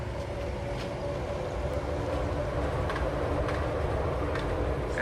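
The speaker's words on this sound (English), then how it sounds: "That sounds like a monorail." A Walt Disney World monorail passes at Magic Kingdom in the morning, a steady, fairly loud rolling rumble with a broad whoosh that holds evenly for a few seconds, with no talk.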